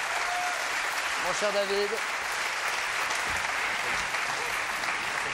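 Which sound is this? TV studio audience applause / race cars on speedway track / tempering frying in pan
TV studio audience applause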